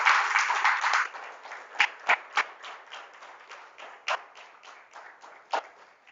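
Congregation applauding during a church service, a dense wash of many hands clapping steadily with a few sharper, louder claps standing out near the listener, continuing without talk.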